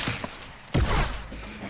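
Gunfire in the video game Fortnite, a short burst of shots that rings out suddenly and fairly loud partway through, preceded by quieter game sounds.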